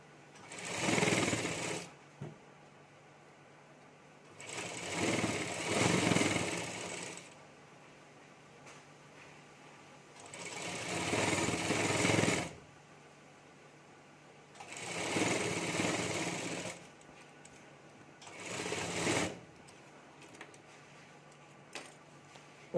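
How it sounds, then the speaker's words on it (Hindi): Sewing machine stitching lining onto brocade fabric in five distinct bursts of whirring stitching, each a few seconds long, separated by short quiet pauses. "यहाँ ऊपर हमें सिलाई कर देनी है"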